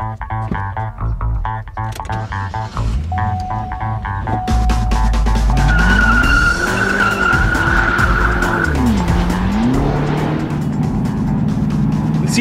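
A Cadillac CTS-V Coupe driving hard, its engine revving loudly with rising and falling pitch and tires squealing through the middle, a continuous close, powerful roar.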